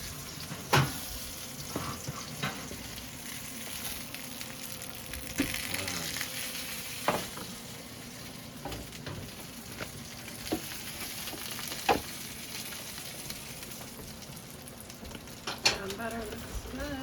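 Butter browning in a pan sizzles softly and steadily, the low frying hiss broken now and then by clinks and taps of a utensil, with faint kitchen sounds behind it.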